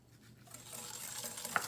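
Sugar is whisked into a tiramisu mixture in a bowl, giving a quiet, brief run of soft scratchy whisk strokes that grow slightly louder.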